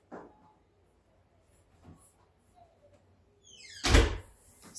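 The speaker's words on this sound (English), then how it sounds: "Close the door." A door closes indoors at home with one loud, solid thud after a stretch of near silence and faint background movement, followed by a quieter tail.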